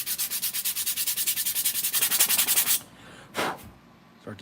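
Rapid rhythmic rubbing of 120 grit sandpaper smoothing a small wooden piece for a miniature roll-up garage door, about twenty quick even strokes close up, then a pause and one last short scrape.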